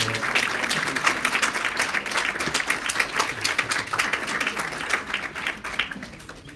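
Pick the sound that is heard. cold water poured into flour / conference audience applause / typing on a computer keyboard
conference audience applause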